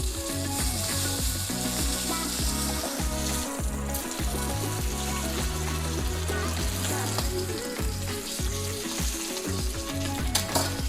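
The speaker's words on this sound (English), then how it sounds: "I'm just going to render down some of that fat." A steak's fat renders in a hot pan with a steady, loud sizzle and frying crackle that runs continuously up close, with no voice over it.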